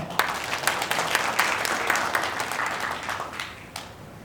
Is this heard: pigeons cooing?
no